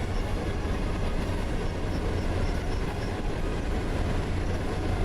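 Freight train in the Simrail game running steadily past, a dense continuous rumble and rolling noise at constant loudness with no talk.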